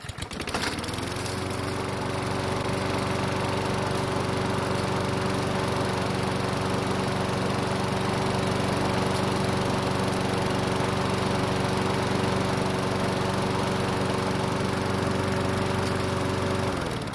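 A self-propelled lawn mower engine, just taken out of storage, starts and then runs at a steady, loud drone without interruption.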